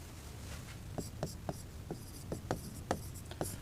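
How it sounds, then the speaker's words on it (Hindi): Pen or chalk writing during a Hindi-language biology lesson, a series of short scratchy strokes in an irregular rhythm, close and fairly quiet over a low background hum. "फिर हम लिखते हैं"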